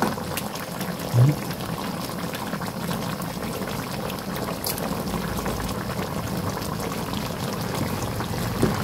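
Coconut milk (gata) simmering in a pot while a Filipino dish cooks, giving a steady close bubbling and low rumble throughout with no talk over it.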